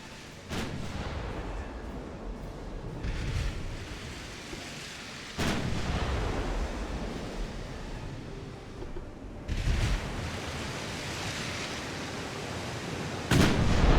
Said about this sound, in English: I love seeing old warships like this fire.